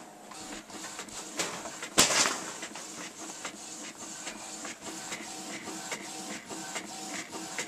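A Windows printer runs steadily, printing an email sent from an iPhone, whirring and clicking in a regular rhythm, with a sharp mechanical clack early on as the page feeds through.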